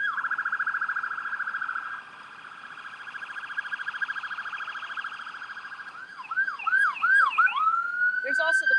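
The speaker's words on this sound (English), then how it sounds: "Here comes a police car in the lead, a couple of police cars," Emergency sirens from police cars and an ambulance drone steadily, then switch to a rapid wailing yelp as the vehicles pass, fairly loud and with no voices over them.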